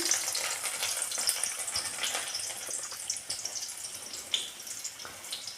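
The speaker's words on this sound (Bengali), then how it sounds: "ওই আলুর পকোড়া ভাজার তেলটাতেই আমি অল্প করে রসুন থেতো করা প্রথমে দিয়ে দিচ্ছি" Crushed garlic sizzles in hot oil left from frying potato pakoras, a soft, continuous hiss with light crackles and occasional stirring, close but fairly quiet.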